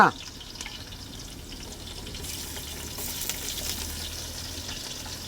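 Onions go into hot oil and fry with a moderate, steady sizzle after a brief clunk at the start, the crackle growing a little brighter midway, with no talking.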